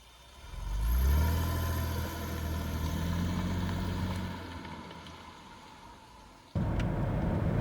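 A Mercedes CLK 320 engine fires up and pulls away as the car sets off. A loud rise in low-pitched engine sound gives way to a steady hum that fades, then ends with a sudden shift to louder driving noise.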